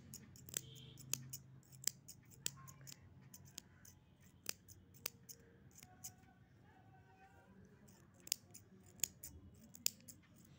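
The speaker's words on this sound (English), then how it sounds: "And now cut. It will be cut easily." Scissors snipping through paper for a craft, a string of crisp separate clicks spaced irregularly, quiet and close with a faint background hum.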